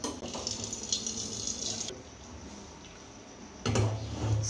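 Cooked rice drained of its water, a steady splash and rush of pouring water in a kitchen that drops to a quieter trickle midway, then surges loudly again near the end, with no voices.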